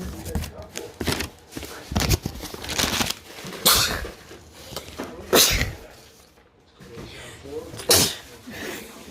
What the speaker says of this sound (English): how many times do I had to sneeze?